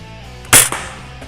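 A Dart Zone Liberator toy shotgun fires a single shot: one sharp, loud pop with a short trailing clatter, close and alone in a quiet room.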